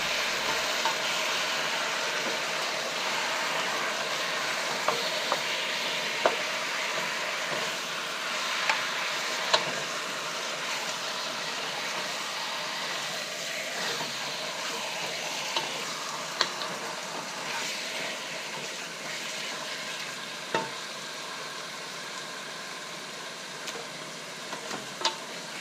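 Caramelized braised catfish sizzles steadily in a pan while being stirred and mixed, with a continuous frying hiss and occasional sharp clicks of a utensil against the pan, no talking.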